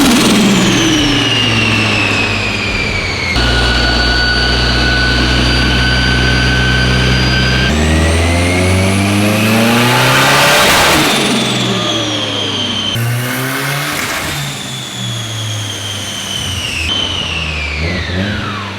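Project car on a dyno, engine revving hard through repeated pulls with rising and falling pitch, loud and close, the run cut short as it hits the boost limit.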